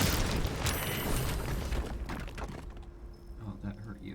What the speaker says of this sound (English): Throw smoke powder bomb at the wall.